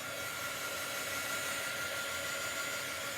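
A hair dryer blows steadily in a continuous broadband whoosh while drying a chalk transfer on a screen, close and constant throughout, with no voices.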